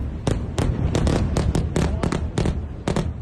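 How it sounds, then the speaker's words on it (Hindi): Airstrikes over Beirut ring out as a run of about nine sharp, loud explosive cracks at uneven intervals, each bursting out over a steady rumbling background. "हवाई हमले होते रहे।"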